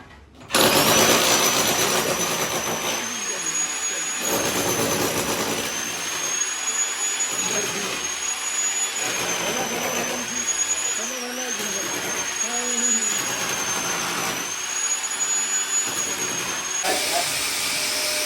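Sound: vacuum cleaner running

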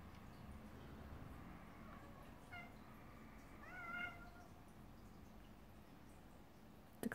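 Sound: cat meowing

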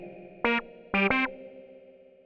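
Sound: synthesizer with reverb added

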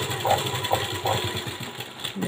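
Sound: sewing machine stitching a blouse

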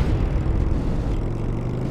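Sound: motorcycle accelerating in a video game

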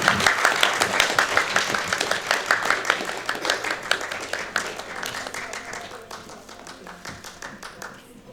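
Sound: applause for cosplay contest winner

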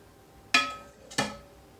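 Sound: ladling starchy cooking water

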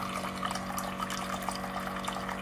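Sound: Aquasana countertop water filter dispensing first flush water

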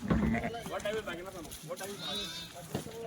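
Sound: Gujarati sheep bleating

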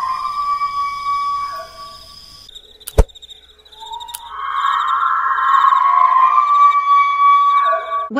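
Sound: screeching 'silencer' creature sound from Roblox game

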